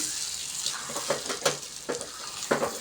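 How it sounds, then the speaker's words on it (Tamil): Flour batter is stirred in a pan for traditional Tamil neer urundai, a soft scraping swish with several louder strokes over a steady background sizzle, close and with no talking. "மாவை இதோட கலந்துட்டு நல்லா கலந்து விட்டுக்கோங்க"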